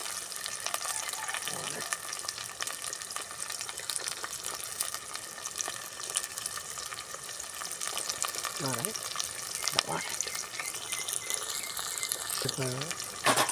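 Slit green chillies frying in a pan for a raw banana and green pea kurma in a village kitchen, a constant close sizzle with occasional stirring scrapes and faint background voices.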